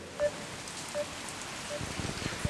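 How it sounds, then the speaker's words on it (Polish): Heavy rain pours during a storm on Ikeshima, a Japanese island, making a steady, dense hiss and patter close by, with a few heavier thumps near the end. "Rozpętała się taka lekka zawierucha i leje tak, że już pomijając to, że my jesteśmy mokrzy, to po prostu ze sprzętu aż cieknie"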